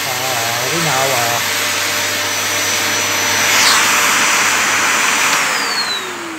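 A vacuum cleaner roars loudly and steadily throughout, its whining motor rising slightly in pitch midway, while a voice speaks briefly near the start.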